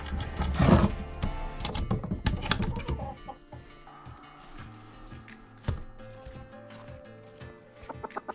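Chickens cluck and murmur nearby, louder at first, then soft scattered clucks with light tapping and rustling in the background.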